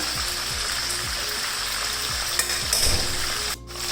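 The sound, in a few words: chicken frying with garlic ginger paste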